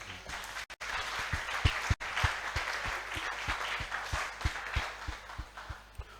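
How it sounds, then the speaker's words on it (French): A church congregation applauds, with steady, rhythmic clapping that continues throughout, moderately loud and slightly distant, with a few brief dropouts. "On peut acclamer pour le Seigneur."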